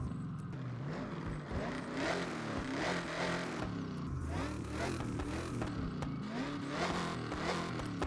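A Chevy Nova with a race exhaust revs in the racing game Forza Horizon 6, a loud, steady engine drone rising and falling through repeated throttle blips, continuous throughout.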